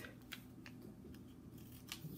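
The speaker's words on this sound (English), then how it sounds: "simply when you use the card, just cut it as the shape of the card" Scissors snipping through card paper for a homemade paper doll craft, several short crisp cuts at an irregular rhythm over a low steady background hum, close and fairly quiet.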